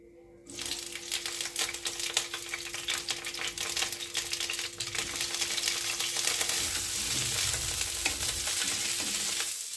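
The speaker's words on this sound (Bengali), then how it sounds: "ফুলকপিতে হলুদ আর নুন দিয়ে ভালোভাবে মাখিয়ে নিচ্ছি, নিয়ে ভেজে নেব" A small cauliflower coated with turmeric and salt hits hot oil and fries with a sudden loud, dense crackling sizzle that continues steadily to the end, close up and without talk.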